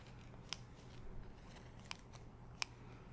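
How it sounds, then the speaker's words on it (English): Three crisp scissor snips sound close up at spaced intervals during a haircut-style scalp treatment, over a faint, quiet background hiss. "Then we'll go back to the main scissors."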